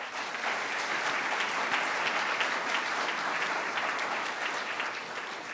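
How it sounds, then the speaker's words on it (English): Sustained applause from an audience, dense and even clapping throughout at a steady level. "Please help me give them a big round of applause."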